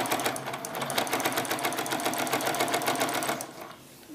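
A sewing machine stitches quilt fabric in a steady, rapid mechanical chatter that runs loud and close for several seconds, then tapers off as the stitching stops.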